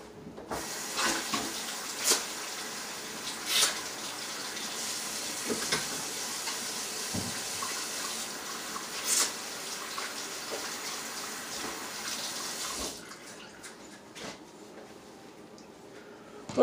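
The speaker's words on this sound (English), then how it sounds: "we're going to start chopping up our mushrooms as soon as I wash my hands" A kitchen tap runs steadily during hand washing, a hissing stream with splashy surges and small clatters, fairly close, before the flow cuts out near the end; no one speaks.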